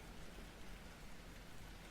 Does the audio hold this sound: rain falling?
yes